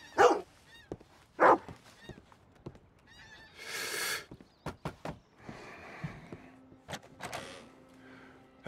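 A dog barks in the western video game Red Dead Redemption 2, sharp repeated barks at close range mixed with horse whinnies, hoof sounds and other ranch noises, with no talk over them.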